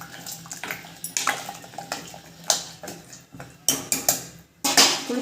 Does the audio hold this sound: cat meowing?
no